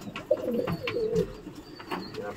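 Domestic pigeons coo softly and repeatedly at close range while being let out for morning flight training, their low burbling calls overlapping with faint rustling and a few brief chirps.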